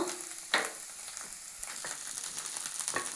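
Ponnaganti leaves and eggs frying in a pan, a soft, steady sizzle with scattered crackles and a couple of sharper clinks of stirring, heard close and alone.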